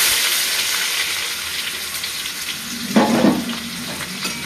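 Chopped ginger and garlic hit hot oil for chowmein, a steady close sizzle with a brief louder crackling burst partway through.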